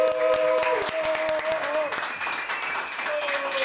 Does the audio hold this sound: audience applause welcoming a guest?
yes